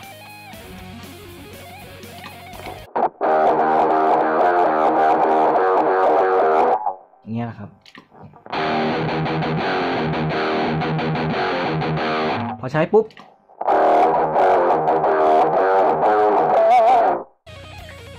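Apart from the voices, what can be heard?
electric guitar through Zoom G5n multi-effects drive channel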